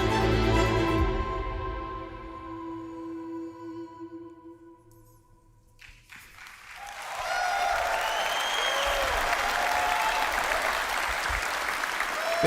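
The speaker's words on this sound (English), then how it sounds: "Big clap." Applause from a crowd swells back in after a quiet stretch and continues loudly to the end, with music fading out at the beginning.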